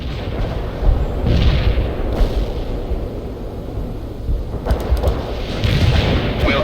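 Artillery fire-support strike in the PC strategy game World in Conflict: repeated heavy booms and rumbling blasts rolling through a dense battle din, with no voices.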